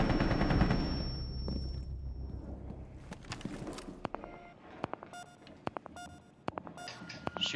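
Video-game gunfire shot through a wall during a tactical round: a loud burst first, then sparse sharp single shots and clicks spaced irregularly, with an electronic beep tone early on.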